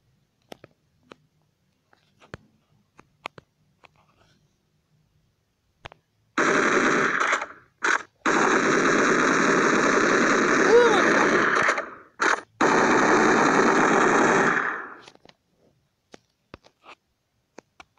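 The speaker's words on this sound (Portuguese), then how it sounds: "Metralhadora." Machine gun fire in a dinosaur-hunting video game comes in dense sustained bursts, interrupted by short gaps, with quiet clicks before and after.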